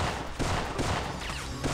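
Rapid bursts of .45 caliber pistol gunfire in the Syphon Filter video game, a dense, loud run of shots filling the whole moment with no voices.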